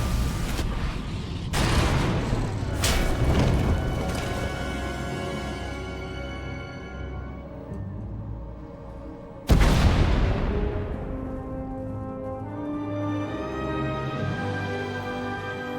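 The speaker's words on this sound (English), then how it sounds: "We heard explosions." Explosions in the video game Star Wars: The Old Republic, several heavy booms with a large blast near the middle that rings out as a long decaying rumble beneath a droning musical score.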